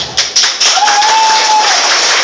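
Brief, fairly weak applause from a church congregation during a sermon, a short patter of clapping with a sustained tone running underneath.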